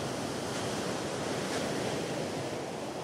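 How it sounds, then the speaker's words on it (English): Ocean waves crash against a rocky shore in a loud, continuous wash of broad surf noise, close and steady with no voices. "while waves crash overhead"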